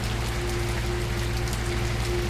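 Steady rain in the video game S.T.A.L.K.E.R.: Shadows of Oblivion, a constant dense patter with a low mechanical hum underneath, no talking.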